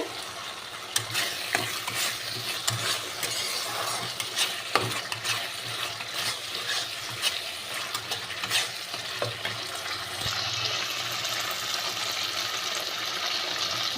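Spice paste cooks down in a pan with a soft, continuous sizzle, while a spoon scrapes and stirs through it at irregular moments, close by with no voices.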